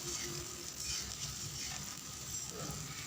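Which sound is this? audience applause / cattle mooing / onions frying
onions frying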